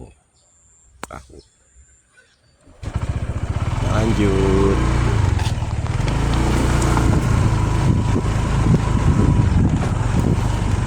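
A motorboat engine on the lake at Situ Gede in Tasikmalaya starts up after a quiet opening and runs as a loud, steady drone with wind buffeting the microphone, while a person says a word.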